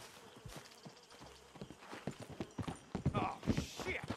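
Horses in the video game Red Dead Redemption 2 clip-clop in irregular hoof strikes, starting faint and growing louder and busier, with talk heard over them.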